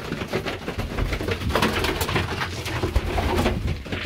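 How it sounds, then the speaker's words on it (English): Pigeons cooing in a loft, a steady overlapping chorus of soft throaty coos close by, with light rustling and shuffling throughout and no talk. "Crazy pigeons."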